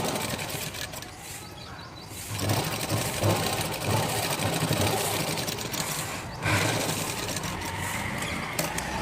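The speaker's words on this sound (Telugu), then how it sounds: "టాప్ స్టిచ్ చేసుకోండి." A sewing machine top-stitching a blouse, a continuous close mechanical whirr that runs steadily, swells louder after a short lighter stretch, and briefly dips before resuming, without any talking.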